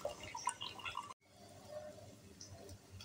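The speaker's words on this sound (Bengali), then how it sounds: "এবারে এই কাপড়টাকে ভালো করে জল ছেঁকে নেব।" Water drips and trickles as paneer is strained through a cloth, a close, soft patter of drops broken by a brief pause before a quieter, steady dribble continues.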